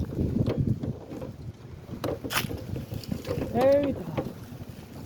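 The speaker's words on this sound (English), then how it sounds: "The wind is a powerful thing." Strong wind gusts through a garden and buffets the microphone with rough, uneven rushing, while a voice briefly speaks.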